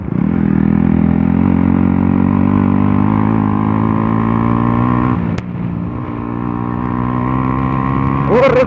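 A Bajaj Pulsar NS 125 motorcycle with its exhaust removed rides past close by with a loud, raspy, unmuffled engine drone. Its pitch holds steady, dips once, then climbs again. No one speaks.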